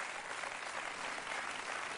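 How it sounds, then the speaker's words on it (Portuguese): A studio audience claps steadily through a Portuguese TV show celebrating a hand-painted tattoo, the applause dense, even and fairly far off with no voices over it. "Uma salva de palmas para a Lília, que teve 6 horas a fazer esta tatuagem!"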